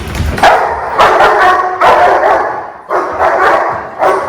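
A dog in bite suit training barks loudly and repeatedly at close range in rapid bursts, with a tense, whining edge between the barks.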